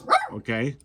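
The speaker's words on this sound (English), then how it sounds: "That's my dog, say hello." A pet dog gives a single short, close bark, and a voice follows straight after.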